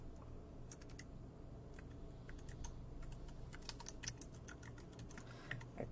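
Rapid clicking keystrokes on a computer keyboard as a greeting is typed in, a quiet close-up patter of irregular taps with no talking.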